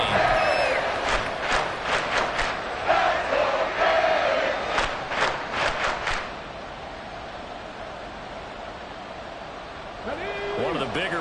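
Football stadium crowd in a GFL game, a broad sustained roar under a loud voice with sharp clattering hits, easing to a lower steady rumble before swelling again near the end.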